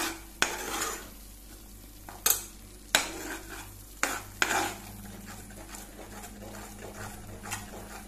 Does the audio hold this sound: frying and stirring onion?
yes